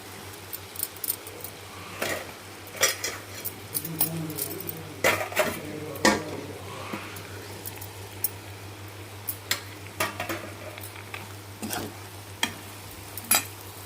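A spoon stirs turmeric and tamarind leaves into a dry fish curry in a pan, giving sporadic close metallic clinks and scrapes over a steady low hum, with no talking.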